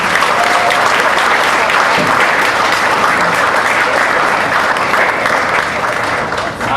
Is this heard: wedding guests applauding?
yes